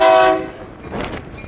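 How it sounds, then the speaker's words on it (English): Train horn sounding a salute to a railroad maintenance crew at a crossing near a bridge, one loud blast that fades, followed by a softer second tone. "that's horn salutes for the maintenance crew"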